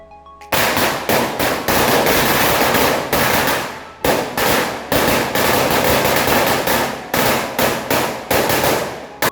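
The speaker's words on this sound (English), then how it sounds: "in evening we did Dhanteras Puja and burned some firecrackers." Diwali firecrackers go off in rapid chains of sharp, loud cracks during an evening Dhanteras celebration. The bursts crackle densely for several seconds, pause briefly, then start again nearby.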